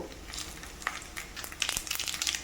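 Garlic, urad dal, mustard seeds and cumin fry in hot oil for tempering, a soft close sizzle with quick crackles and pops as seeds spatter.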